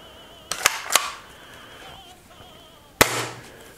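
A spring-powered airsoft Mosin rifle is cocked and dry-fired, giving sharp mechanical snaps: a quick pair, then another, and after a pause one louder spring clack, close and clear with a faint background hum.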